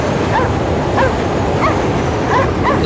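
A dog barks and yips in the video game Cryostasis, several short, sharp calls at irregular intervals over a dense, steady background roar.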